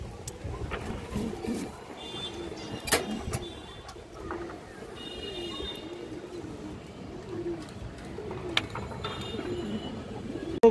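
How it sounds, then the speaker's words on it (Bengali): Pigeons in a farm loft, near a big female bagha pigeon, give soft intermittent coos and calls over a low, steady background hum with occasional clicks. "বড় সাইজের একটা বাঘা মাদি কবুতর আছে"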